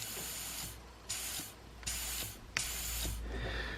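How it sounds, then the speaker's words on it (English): Compressed air hisses through a torn diaphragm on an eBay turbo wastegate fitted to an RX7 with a K20 turbo swap, in three or four loud, breathy bursts with short pauses between them. "the air is going down there through a hole in the diaphragm"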